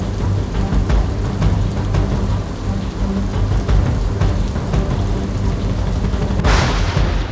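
Heavy monsoon downpour in Surendranagar, Gujarat, during flooding: a loud, unbroken roar of rain on surfaces with a deep rumble underneath, alone and without voices.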